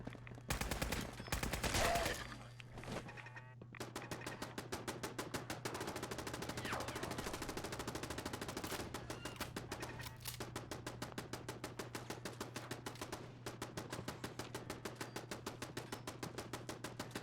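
Rapid automatic gunfire in Fallout 4 as ghouls shoot, a dense, fast, evenly spaced rattle of shots that runs almost the whole time after a few louder bursts at the start, with no talk.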